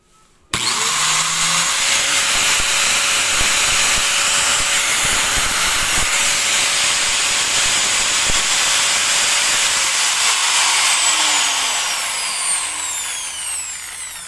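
A repaired angle grinder spinning without its guard, starting abruptly and holding a loud, steady high-pitched whine with hiss for over ten seconds before easing slightly as it winds down.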